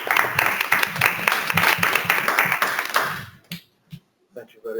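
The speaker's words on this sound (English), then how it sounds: "let me give the floor to Ahmad Hamid and give him an applause" Audience applause at an architecture lecture, dense clapping for about three seconds that tapers off, then a few isolated claps and taps with brief quiet gaps, as the speaker is welcomed.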